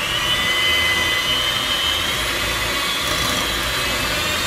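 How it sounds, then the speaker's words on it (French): An electric hand mixer whisks lumpfish roe into mashed potatoes for homemade taramasalata, giving a loud, steady high motor whine with a broad buzzing hiss that runs unbroken and close throughout. "nous allons incorporer les œufs de lompe en fouettant comme il se doit, de manière à bien mélanger à la fois les pommes de terre et les œufs"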